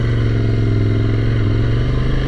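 A 2017 Ducati Scrambler Desert Sled motorcycle engine runs steadily at a low, throaty drone, close and loud, with a constant rumble and no pauses.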